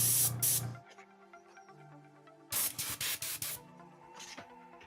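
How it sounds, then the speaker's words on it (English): An airbrush spraying paint on models hisses in short, close bursts: one burst opens the clip, then after a quiet gap a run of several quick puffs follows, with faint music underneath. "I haven't done airbrushing like this in a while"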